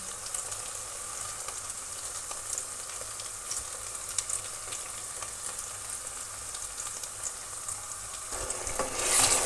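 Masala for a turnip (shaljam) curry sautés in a pan, giving a steady, moderately quiet hiss of frying that swells slightly toward the end, with no one talking.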